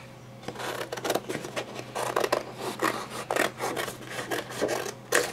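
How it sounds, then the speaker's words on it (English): Scissors snip out paper decoupage topper pieces at a craft table, a close series of quick, crisp rasping cuts in irregular bursts with no talking. "I'm going to cut these pieces out, I guess, because I need it smaller."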